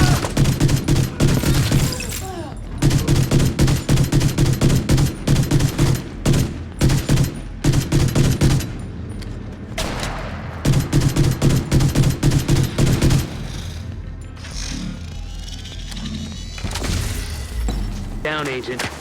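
Rapid automatic gunfire from The Division 2 video game crackles in dense, loud bursts with short pauses and thuds, while a voice calls out over the shooting.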